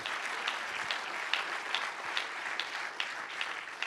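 A church congregation applauds in steady, dense clapping that fills the whole stretch at an even, moderate level.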